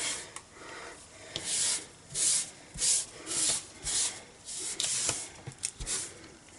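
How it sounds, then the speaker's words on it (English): A cloth rubs and wipes loose embossing powder off a craft surface while making a heat-embossed card through a stencil, in about eight steady rasping strokes close to the mic, with brief pauses between them. "So I'm just going to use a cloth here and clean this up before we go any further"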